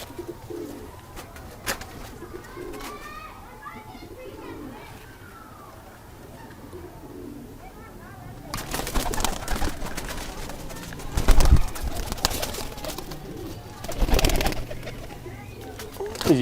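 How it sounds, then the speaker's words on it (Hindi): Pigeons in a breeder's loft coo softly in the background, with faint rustling and handling noise, while someone speaks over them for much of the time. "ये कबूतर देखें जनाब"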